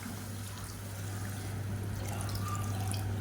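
Hot water poured into soaked jeera samba rice for biryani, a steady close liquid pour and splash running throughout over a low constant hum.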